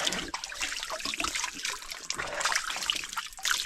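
Drinking water trickles and splashes along a mountain trail, a steady bright close-up burbling that continues without pause.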